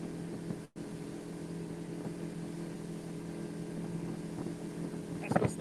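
A boat with a four-stroke Mercury 115 outboard motor runs steadily on the Ohio River, a constant droning hum with a brief dropout near the start and a short burst of clatter at the end.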